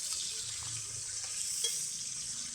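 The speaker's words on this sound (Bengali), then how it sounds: "এই তেলটা আমরা ভালো করে ভেজে তেলটা বের করে নেব" Meat skin fries in oil to render out its fat during a family picnic cookout, producing a continuous high, even sizzle with faint stirring touches underneath.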